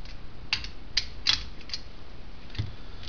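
Ratchet socket wrench tightening nuts on a Jaguar E-Type brake pedal box: a handful of short, faint clicking bursts spaced irregularly, close by over a quiet background.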